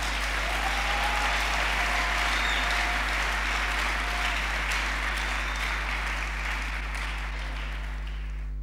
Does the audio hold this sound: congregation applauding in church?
yes